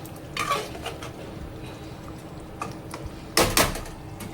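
A spoon stirring chicken with chopped coriander in a pan, a few scraping and clinking strokes against the metal, close and moderate, with a quiet kitchen background between them.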